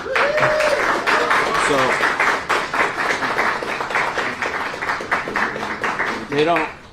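An audience claps for a new zoo director at a public announcement, sustained applause with individual hand claps audible while voices and a few whistles or cheers rise over it.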